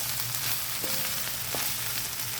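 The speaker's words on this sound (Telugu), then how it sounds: "1 టేబుల్ స్పూన్ అల్లం వెల్లుల్లి పేస్ట్ అన్నీ వేసేసేయాలండి" Ginger garlic paste frying in a pan, cooking an onion pakodi curry, crackles with a steady close sizzle and a few faint tonal clinks, with no one speaking.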